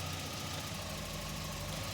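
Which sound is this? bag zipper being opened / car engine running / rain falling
car engine running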